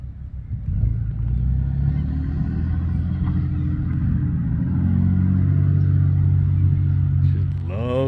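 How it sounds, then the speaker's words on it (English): Deep, steady rumble of a Ford PowerBoost hybrid pickup truck's exhaust, running loud and continuous throughout with a slight rise in the later seconds. "Now it's all about the exhaust note."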